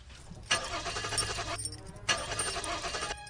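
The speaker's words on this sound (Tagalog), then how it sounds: "Subukan mo kaya uli i-start yung kotse." A car engine cranks twice without starting, each attempt a steady whirring turnover of about a second, heard nearby on a quiet rural road.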